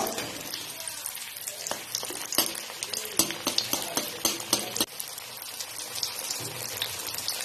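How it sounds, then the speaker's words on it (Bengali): Homemade chicken fries deep-frying in hot oil over medium flame, a bubbling crackle dotted with sharp pops and spatters, plus a few utensil taps, close and unvoiced. "এর মধ্যে ফ্রাইসগুলো ভেজে তুলে নিচ্ছি।"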